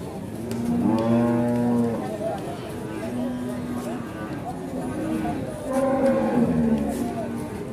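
A female Limousin cow moos at a cattle market, two long, deep lowing calls, close and loud, with people talking around it.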